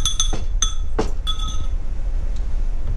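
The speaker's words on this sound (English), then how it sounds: "I'm gonna just lightly beat them just enough to break up the yolk a little bit." Eggs are lightly beaten in a glass bowl, making several quick bright clinks of a utensil against the glass over a steady background hiss.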